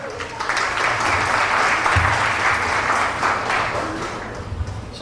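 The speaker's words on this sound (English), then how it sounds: "please give a round of applause for Shali Garage." An audience at a Dallas community cultural program breaking into applause, a dense sustained clapping that swells and then slowly thins, with a voice briefly audible underneath near the end.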